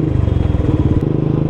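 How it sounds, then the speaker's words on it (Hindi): A motorcycle runs close and loud on a road in India, its engine misfiring in an uneven, stuttering pulse of rapid irregular thuds. "बाइक दे रहा दिक्कत है, देखो क्या मिसिंग मार रहा है"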